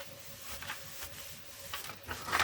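Polymer clay piece being sanded by hand, giving soft, irregular rasping strokes close up and fairly quiet, with a brief louder scrape at the end.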